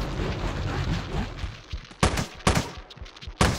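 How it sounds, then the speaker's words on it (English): Bombs detonating in The Binding of Isaac: Antibirth: after a stretch of busy game noise come three short, punchy blasts in quick succession, loud and close. "Let's bomb our way into the next room."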